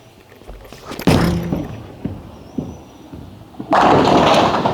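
Phaze II Pearl bowling ball thrown down a lane: a thud as it lands, a rolling rumble with a few knocks as it travels, then a loud crash of pins near the end.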